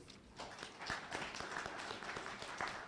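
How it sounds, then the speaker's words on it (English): Scattered audience clapping at a Kenyan coffee sector launch event, a moderate, uneven patter of hands heard from some distance, brief and fairly faint. "And I would want you to clap for them"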